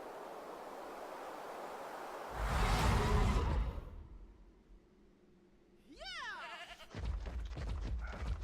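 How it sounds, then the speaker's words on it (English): A goat bleats in the video game ARK with a short, wavering, pitch-sliding call, after a loud whoosh and before a burst of louder game noise. "I heard a goat. Where are you at, goat?"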